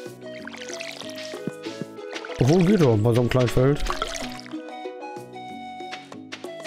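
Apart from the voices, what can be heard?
watering beans with watering can in video game Stardew Valley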